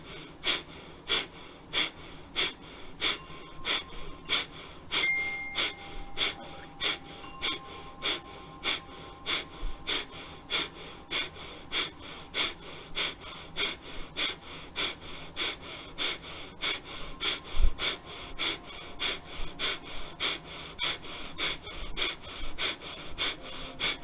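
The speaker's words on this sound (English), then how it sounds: "Now this time on that exhale, I want you to pump." Rhythmic, forceful breathing from a guided breathing exercise, with short pumped exhales repeating steadily near the microphone for the whole stretch, a few soft tones in the background.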